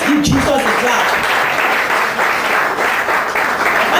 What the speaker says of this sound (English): So let's give Jesus a clap.